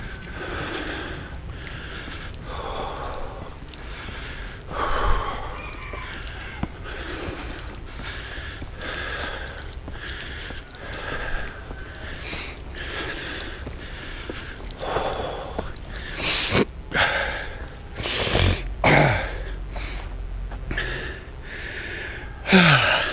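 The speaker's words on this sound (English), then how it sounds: "As you might be able to tell from the heavy breathing, I've got a bit of a cold at the moment." Heavy, congested breathing from someone with a cold after climbing at a hilltop temple in Thailand, with repeated close snorts, gasps and sniffs throughout.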